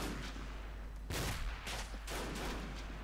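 A grenade is cooked and thrown in a war video game, ending in a loud burst of blast noise partway through, followed by further rumbling explosions over steady low battlefield background.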